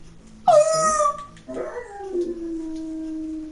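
A dog lets out a loud, rising howl, then a second, lower drawn-out howl that trails off, close and alone.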